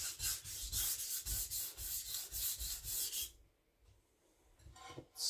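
Knife blade being sharpened on its other side, a quick run of rhythmic rasping strokes, close and fairly loud, then a brief quiet pause before a couple more scrapes.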